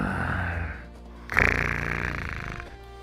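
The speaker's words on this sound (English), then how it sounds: "Sounds like he's snoring." A monster in the video game Monster Haus snores: a loud, rasping, drawn-out snore, then a sharper snort-like inhale, heard close and alone.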